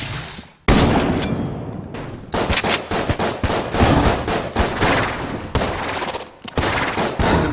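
Rapid bursts of gunfire from the twin-stick shooter Enter the Gungeon, dense volleys of shots firing almost nonstop with brief pauses, loud and close throughout.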